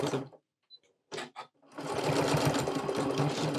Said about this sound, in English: we're going to catch that when we sew that closed